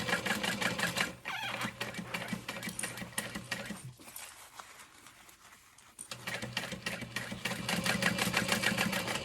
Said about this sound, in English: Again, back stitching.